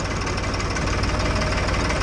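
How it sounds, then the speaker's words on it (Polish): A farm tractor's engine runs steadily at close range, a dense low rumble with a knocking beat, as the clutch is held down, with no talking over it. "Teraz musimy Paulince wcisnąć sprzęgło"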